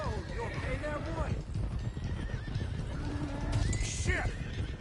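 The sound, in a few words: horses galloping and neighing in video game Red Dead Redemption 2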